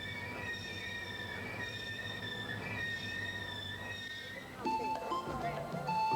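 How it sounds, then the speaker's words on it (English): A passenger train rolls into Victoria Falls Station, Zimbabwe, with high metallic wheel squeals and rumbling, then brakes screech and clatter as it slows near the end. "The last passenger train for all those travelling to Zambia and beyond pulls into Victoria Falls Station."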